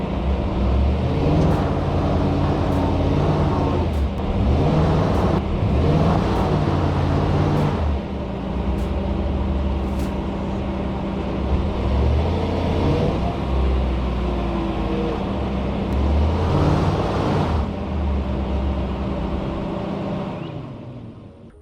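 A truck engine revs hard and steadily for the whole stretch, a loud sustained drone with surging pulls as it strains to climb out of a ditch, with no talk over it.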